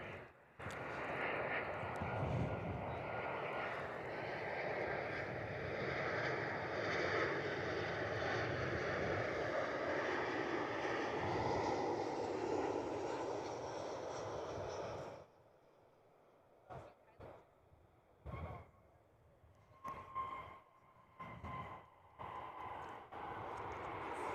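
Passenger plane on the short Kalgoorlie to Perth flight arriving at Perth, a loud broad roar of jet engine noise for about fifteen seconds that cuts off, leaving scattered faint bumps and wind.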